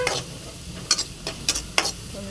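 Lentils dry-roast until golden brown in a pan, a soft hiss under a few sharp scraping and stirring clicks spaced irregularly, close and moderately quiet.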